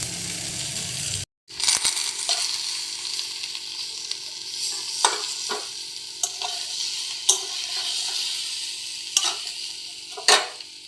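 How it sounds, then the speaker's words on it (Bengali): Spices sizzling in a hot pan with steady frying hiss, punctuated by scraping and clinks of a spatula stirring every second or two. "দিয়ে ভালো করে কষিয়ে নিচ্ছি"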